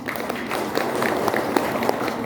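Applause from parents gathered at a kindergarten parenting session, a steady patter of many hands at moderate level with a few louder claps standing out over the course of the clip.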